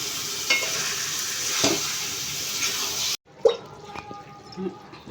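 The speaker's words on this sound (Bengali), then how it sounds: "মশলাটা আস্তে আস্তে ভালো করে কষিয়ে নেব" Mutton curry masala stirred and fried in a pan, a soft steady sizzle with faint scraping of the spoon, then a quieter stretch with a few light clinks and bubbling.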